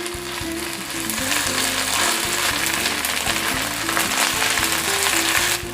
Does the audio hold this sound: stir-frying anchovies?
yes